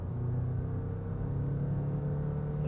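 2022 Land Rover Defender 110 accelerating hard from a stop with the ESP off, heard from inside as a steady, rising engine drone and road rumble, moderately loud, with no talking.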